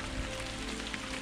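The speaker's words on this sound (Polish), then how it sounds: "Nie wiem, jak z tym deszczem sobie poradzić." Steady rain hisses in a video game set in an enchanted palace, a dense, even patter filling the brief moment at low volume with no other clear sounds.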